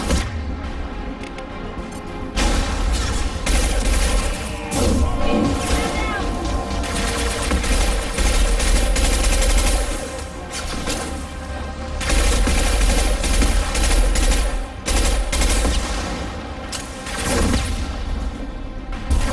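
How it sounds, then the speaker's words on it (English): Mass Effect 2 combat on Veteran difficulty: a high-impact shot booms amid sustained heavy gunfire and explosions, loud and continuous with brief lulls, under character voices. "Firing a high-impact shot!"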